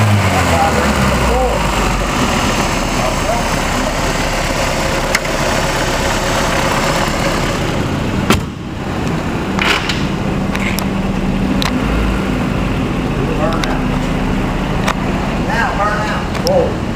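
A C-Rex engine fitted with a homemade intake runs loud and close with a rough, steady drone and brief shifts, while people talk over it.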